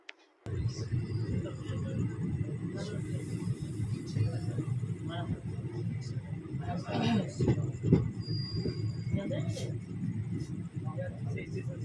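The Kanchanjunga Express rumbles as it slows at Dankuni station, with rolling wheel noise and a brief metallic squeal. Someone speaks over the sound throughout.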